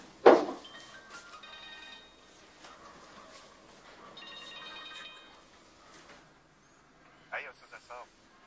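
A telephone rings in a film scene, with repeated electronic ringtone trills, fairly clear against quiet background, followed by a sharp louder tone near the end; voices are heard.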